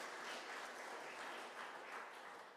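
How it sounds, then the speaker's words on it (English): Faint, brief audience applause for candidates at a ward election question time in a church hall, a soft, even patter of clapping heard from a distance. "Can you give them a round of applause"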